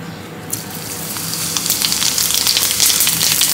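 Cumin seeds sizzle in hot oil and ghee for an Andhra-style tempering. The close, steady sizzle swells after a moment and continues crackling throughout, with no talk.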